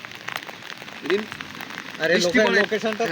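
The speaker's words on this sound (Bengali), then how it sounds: "এটা অনবর্ত ভাবে অবিশ্রান্ত বৃষ্টি" Heavy, continuous monsoon rain pours on Bashtala bridge, a steady close wash of patter and splashes with someone talking over it.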